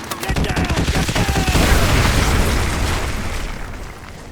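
Danger-close artillery fire mission in Call of Duty Modern Warfare 2, heavy explosions and rapid booming blasts rolling together into a loud, dense barrage that swells and then slowly decays.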